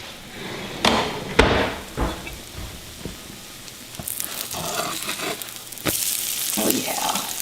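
French toast frying in a pan, with a soft sizzle running steadily underneath a few sharp knocks and clatters of a utensil against the pan. The sizzle swells louder toward the end.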